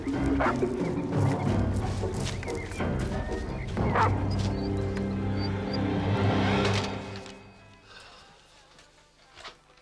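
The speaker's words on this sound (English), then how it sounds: "Dog! Dog!" A dog barks and yips repeatedly in a drama scene, loud and close with busy background noise, then fades to quiet near the end.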